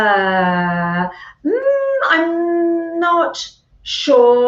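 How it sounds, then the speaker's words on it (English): Dogs howl and whimper at dinner time in long, wavering, tonal cries that rise and fall in close, loud bursts with short gaps, while a person speaks briefly. "You can hear my dogs are barking."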